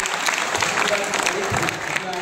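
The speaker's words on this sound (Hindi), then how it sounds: "जोरदार तालियां बजाएं" Audience at a school student award ceremony applauding winners, a brief, dense burst of steady clapping throughout.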